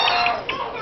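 Chicken-like clucks and squawks from a bird perched close by, a few short bursts in quick succession, fairly loud and near with no talking over them.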